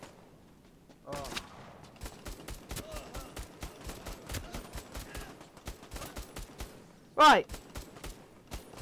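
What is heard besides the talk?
gunfire in video game Bravo Team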